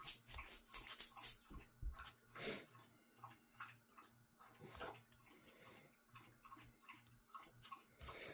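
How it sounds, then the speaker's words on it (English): A dog drinking water, with close rhythmic lapping and slurping bursts against a quiet background, faint and irregular, and no speech. "that is a different dog drinking, and they all sound different"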